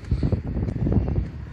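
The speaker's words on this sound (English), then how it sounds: "Wow, it's windy out here" Wind blowing outdoors beside a 2006 Peugeot Expert van, gusty buffeting noise rumbling against the microphone in uneven bursts.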